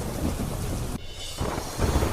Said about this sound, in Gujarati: પવન સાથે અનેક વિસ્તારોમાં જામ્યો વરસાદી માહોલ.